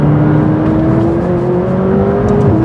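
A McLaren 570S turbocharged supercar accelerates hard under full throttle, its engine drone rising steadily in pitch from inside the cabin, loud and continuous, then easing off briefly at the end.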